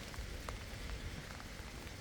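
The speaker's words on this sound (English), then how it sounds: "it's raining again" Rain falling steadily, a soft, even patter of drops on surfaces outdoors, faint and continuous with no voices.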